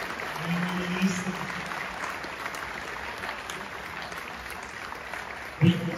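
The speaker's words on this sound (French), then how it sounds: "On peut une nouvelle fois applaudir Madame la Ministre." An audience applauds the Minister at a talk on ethics and values in sport, a steady mass of clapping filling the room, faint and even throughout, with a brief louder burst near the end.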